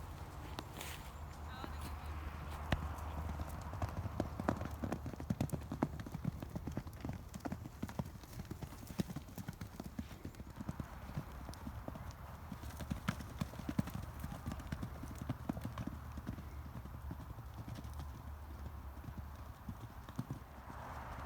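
Horse hooves thud repeatedly on soft ground, a rapid irregular drumming that comes and goes across a pasture, with occasional faint voices.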